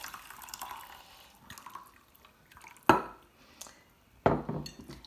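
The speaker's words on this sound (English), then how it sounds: "we're going to pour it in with the couscous" Stock from a dissolved stock cube poured into a bowl of dry couscous, with soft trickling and dripping and a couple of sharp clinks against the bowl.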